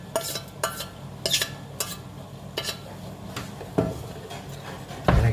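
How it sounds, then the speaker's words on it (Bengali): Sugar being stirred into a coconut mixture in a pot on a cold stove, giving intermittent spoon scrapes and light clinks against the pot at an uneven rhythm, close and moderately quiet, with no talking. "এটাকে এখন ভালো মতন মিক্স আপ করে নিচ্ছি"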